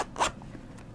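A zipper on the side of a flared A-line skater-style skirt is drawn briefly, a single short close rasp followed by quiet handling.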